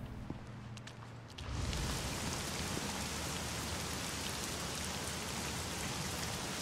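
Steady rain in the video game The Medium sets in abruptly after a quiet opening second and a half, then holds as a loud, dense, even hiss of falling drops to the end.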